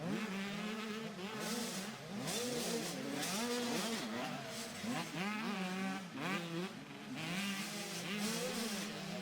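Motocross bikes at a championship race at Hawkstone Park in an Open 85 class, engines buzzing and revving continuously with rising and falling pitch as several riders pass, loud and steady throughout with no talk.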